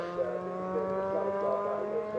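Honda Civic Cup race cars lapping Donington Park, a steady droning engine note with faint shifting pitch, moderately distant and continuous, under a commentator's voice.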